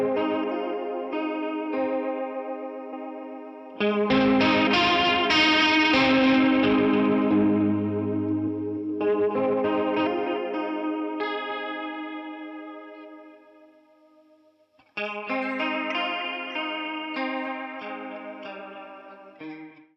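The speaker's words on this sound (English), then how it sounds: "Let's say you want to make a lo-fi pad sound." Electric guitar through an EQ pedal set before overdrive pedals, filtered into a soft lo-fi pad: sustained chords with a swelling chorus-like shimmer, a thicker middle passage, then a fresh chord entering, no talking.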